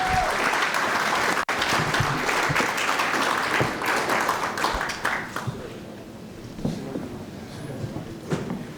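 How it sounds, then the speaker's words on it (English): Audience applause at a city State of the City event, loud sustained clapping that thins out into scattered claps and room noise after a few seconds. "Please give him a round of applause."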